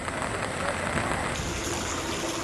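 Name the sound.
heavy continuous rain during Marathwada flooding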